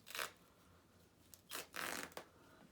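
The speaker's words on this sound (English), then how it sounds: "I just kind of rip it gently apart" Fabric strips for a homemade face mask gently ripped apart by hand, giving a few short soft tearing bursts spaced across a quiet pause, close and fairly faint.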